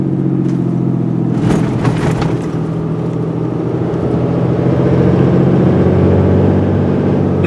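A vehicle towing an RV trailer rolls over rough railroad tracks. A steady, loud engine rumble is broken by a brief cluster of jolting thumps and rattles early on, then the low drone continues.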